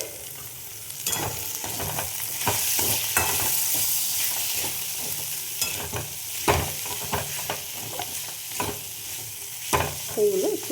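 Capsicum and tomato with ginger sautéing in a pan, a steady sizzle broken by repeated scraping and stirring strokes of a spatula, close up, with no talking.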